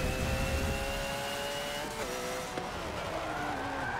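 A Porsche in Forza 7 skids as its back end slides out, with a loud, steady engine roar and tire squeal sweeping down in pitch and continuing for several seconds without any talk.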